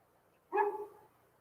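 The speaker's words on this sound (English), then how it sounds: "And their dogs are out." A neighbor's dog gives a single short bark from some distance away across a back property line, one sharp bark with a brief tail, otherwise quiet.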